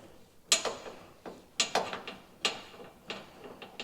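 A ratchet wrench working an 8mm nut loose with a flexible extension, giving short bursts of close, crisp clicking in uneven spurts with brief pauses between strokes.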